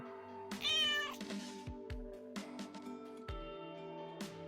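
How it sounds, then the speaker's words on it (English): A cat meow plays as a stream alert sound effect: a short, clear meow near the start, followed by a few soft thumps and brief noises in an otherwise quiet room. "Thank you for the meow."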